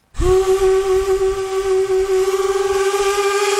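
The Unterwalden paddle steamer's steam whistle gives a single loud, sustained blast with a steady tone and a breathy hiss, starting abruptly and holding for several seconds on its own.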